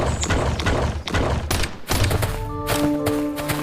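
Oil drums explode in rapid succession during a raid in a survival video game, with a dense barrage of booming blasts and thuds followed by ringing, metallic tonal debris sounds.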